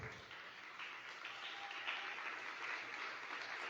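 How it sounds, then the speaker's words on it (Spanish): A church congregation claps throughout as a faint, distant, even wash of applause that never clearly peaks. "Denle un gran aplauso al Señor"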